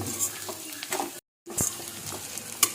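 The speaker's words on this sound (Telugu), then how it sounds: "బాగా వేయించుకోవాలండి ఒక ఒక నిమిషం పాటు వేయించుకోండి" Chicken and chilli powder frying in a pan, a steady close sizzle with spatula stirs and scrapes, broken by a brief silent gap midway.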